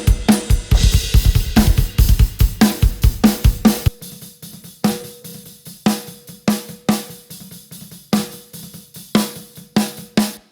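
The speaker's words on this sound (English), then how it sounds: "There's some washy hi-hats. There's a bit of cymbal bleed going on." Drum recording with a steady groove of kick and snare hits, washy hi-hats and cymbal bleed, loud and dense at first, then thinning to sparser, gated-sounding hits after a few seconds; no talking.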